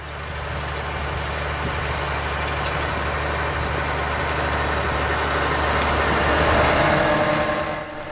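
A Valtra tractor with Powershift transmission pulling a Kongskilde cultivator, its engine a steady loud low drone with a continuous broadband rumble, swelling slightly and holding even throughout with no talk.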